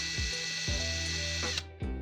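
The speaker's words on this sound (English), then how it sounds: "Next I pulled out the drill, drilled a hole in the forearm" A power drill whirs in short bursts, spinning up and slowing repeatedly, close by with a whiny motor tone, drilling a hole in the forearm of a plastic action figure.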